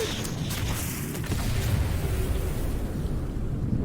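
Heavy explosions from an Astral Chain video game trailer, a continuous deep rumbling roar of blasts and booms that swells louder after the first second and stays dense throughout, with no talking.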